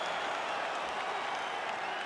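A UFC 5 video-game arena crowd applauds and cheers after a fight, a dense, steady roar of clapping and voices that continues without a break.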